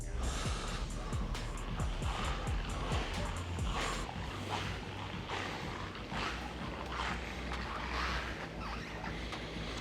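BMW X5M SUV driving past, a loud, broad engine and road roar that holds steady throughout, with a sharper revving swell in the opening seconds.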